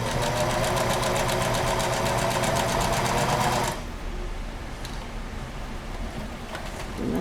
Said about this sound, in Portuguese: E eu gosto de segurar a linha aqui pra começar a costurar